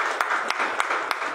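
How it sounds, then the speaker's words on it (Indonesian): A church congregation gives scattered applause to welcome newlyweds, a handful of separate claps standing out over a steady room wash, moderately near and alone without talk. "Beri tepukan dulu untuk mereka."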